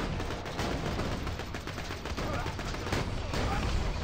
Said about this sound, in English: I just got shotgunned in the face.